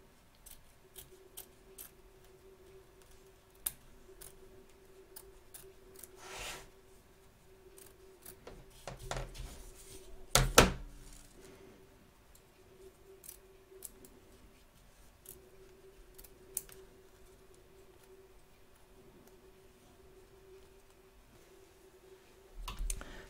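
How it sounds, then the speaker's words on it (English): Scissors trim excess fabric around the edge of embroidery stitches on a hoop, giving a sharp cluster of close snips in the middle with scattered soft clicks and handling sounds around it. "So turn your hoop over and trim around the edge."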